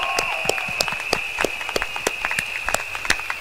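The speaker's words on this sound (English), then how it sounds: "Shall we give them a big round of applause?" Sparse, sharp handclaps from an audience at an election rally at Woodlands stadium, individual claps ringing out at an uneven rhythm over a steady electronic hum.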